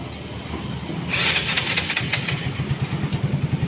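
A Yamaha Mio scooter engine cranks and catches, then settles into a steady, even idle with a quick pulsing beat, heard close up in a workshop with no one talking.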